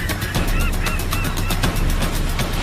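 Birds near the water on an island shore call in a run of loud, repeated goose-like honks over heavy wind and surf noise.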